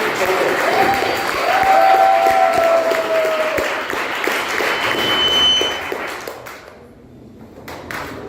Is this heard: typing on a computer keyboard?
no